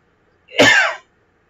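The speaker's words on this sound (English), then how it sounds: "Sorry, I had to cough." A single cough from one person, muffled by a hand held over the microphone, a short close burst of about half a second in an otherwise silent moment.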